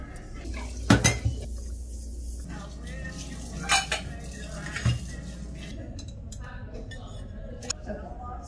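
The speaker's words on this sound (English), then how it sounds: "I'll just pour some here, which would be good enough for me to wash these dishes" Dishes being hand-washed with a sponge and dish soap at a cat rescue, with a few sharp clinks of crockery and cutlery over a steady background hum while a voice talks intermittently.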